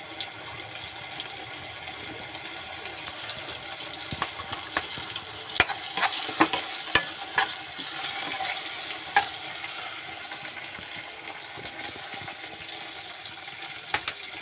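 Curry leaves hit hot oil and are stirred while making okra (bendakaya) pulusu, giving a continuous crackling sizzle broken by sharp spoon clicks against the pan, with no voices.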